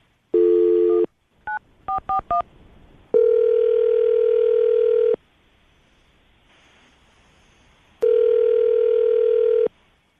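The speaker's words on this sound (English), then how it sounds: "I'm going to dial the phone number right now" A run of telephone dialing: a steady dial tone, then several quick beeping key tones, more dial tone, a quiet gap, and the tone again, clear and close.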